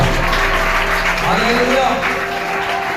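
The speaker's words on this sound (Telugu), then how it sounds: "చప్పట్లు కొట్టండి" A church congregation claps together during a Christian sermon, steady and close, with a voice and tonal music sounding over the clapping.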